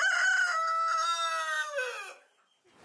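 A chicken on a small farm, kept with turkeys, guinea fowl, geese, ducks and quail, lets out one long, drawn-out, crow-like call that fades after about two seconds, followed by a faint rustle.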